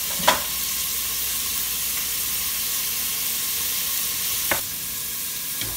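Aromatic vegetables for chicken and dumplings sauté in a pot with a steady, soft sizzling hiss, broken by two sharp stirring knocks near the start and later on.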